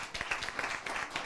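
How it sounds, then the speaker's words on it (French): Audience applause at a school contest between Lycée de Sangalkam and Groupe Scolaire Khadimou Rassoul Diourbel, a soft, steady patter of many hands clapping at a moderate distance, fairly faint throughout. "Le fair play,"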